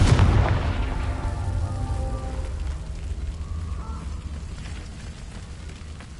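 Confringo fire spell explosion in Hogwarts Legacy, a heavy boom that hits hard at the start and then rumbles and crackles away, slowly fading over several seconds.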